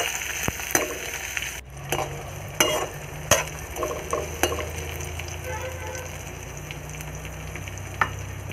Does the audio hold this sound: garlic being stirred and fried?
yes